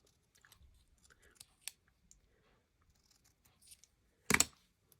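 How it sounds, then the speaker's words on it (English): Scissors cut craft material for making small dangles: quiet handling clicks and rustles, then one sharp, close snip near the end. "grab the right scissors."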